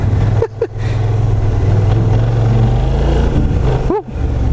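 A Kymco AK550 maxi-scooter engine idles with a steady low rumble, briefly blipped twice with quick revs, loud and close.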